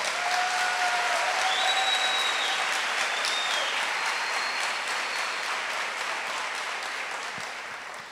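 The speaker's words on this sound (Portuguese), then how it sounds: "Pode aplaudir com força." A church audience breaks into loud, sustained applause for a full eight seconds, dense clapping filling the room and slowly tapering toward the end, with no talking over it.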